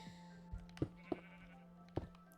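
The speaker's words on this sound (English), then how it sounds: "Move out of my way, sheep!" Minecraft sheep give several short, quiet bleats spaced unevenly over a couple of seconds, alongside a steady low tone and soft game sounds, with no talking.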